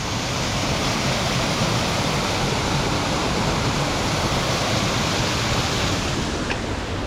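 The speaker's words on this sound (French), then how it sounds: "Encore une cascade." Steady rushing roar of a waterfall beside a hiking trail toward Lac Blanc near Mittlach, a dense, continuous broadband wash close by with no pauses for the full stretch.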